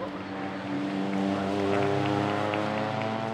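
SMRC Fiesta and hot hatch race cars roll out into pit lane at Knockhill, a steady, moderately loud engine drone with a nearby car passing, alone without talk.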